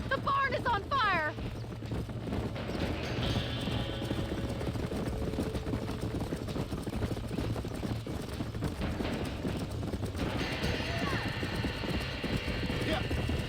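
Frightened horses trapped in a burning barn in the Red Dead Redemption video game whinny shrilly and stamp over a low rumble of fire, with calls at the start and near the end.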